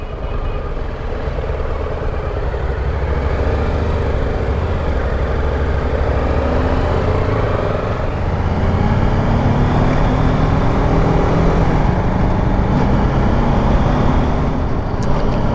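City traffic in Saudi Arabia heard while riding motorcycles, with a continuous loud engine drone and road rumble that swells slightly partway through, and no talk over it.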